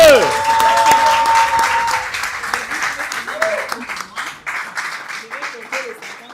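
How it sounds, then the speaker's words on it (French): Audience applause at a prize draw announcing cash winners, a burst of clapping that fades gradually over several seconds while a presenter keeps talking over it. "Est-ce qu'on peut applaudir pour le monsieur?"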